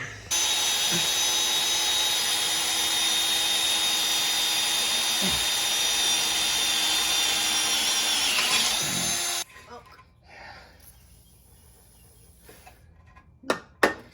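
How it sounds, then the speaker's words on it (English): A power drill whines steadily at high speed for about nine seconds, then stops abruptly, leaving quiet handling noises and a couple of sharp knocks. "let's drill that out"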